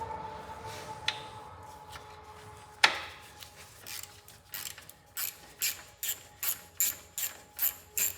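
A ratchet wrench loosens a 1/2 inch bolt on a Cub Cadet 2284 garden tractor: a few scattered clicks and a sharp knock, then a run of rhythmic ratcheting bursts, close and clear.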